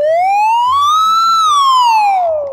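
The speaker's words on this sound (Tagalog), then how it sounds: "Parang siren sound." A siren, likened to an ambulance, wails in one loud, smooth tone that climbs and then falls, close and clear, with no voices over it.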